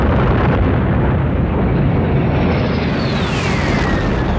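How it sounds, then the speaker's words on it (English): A massive fuel-air bomb detonates in ice tunnels as one continuous, loud, close roar of deep broadband rumble that fills the whole stretch without a break. No voices are heard. "create one massive fuel-air bomb, which they wasted no time in detonating"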